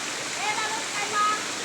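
A small waterfall at an outdoor bathing spot pours steadily in a loud, close, broadband rush of falling water, with faint voices under it.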